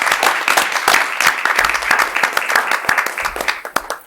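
An audience at a city council meeting applauds in a burst of dense, energetic clapping that rises and fades over a few seconds, filling a large room.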